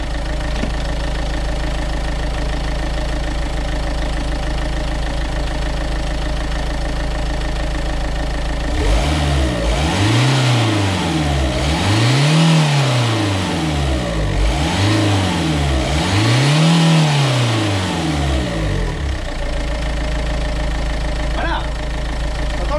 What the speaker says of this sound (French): Je vais te mettre un ou deux coups de gaz pour que tu vois bien que je suis pas en train de t'ébaratiner, que c'est du costaud.